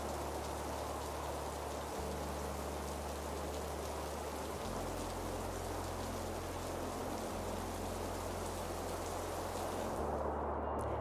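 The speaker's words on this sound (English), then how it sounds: "driving right through a rainstorm with large swells and pelting rain" Heavy, pelting rain in a rainstorm at sea, driving through large swells near the Azores, a dense steady roar of drops with a low rumbling engine drone underneath, loud and unbroken throughout.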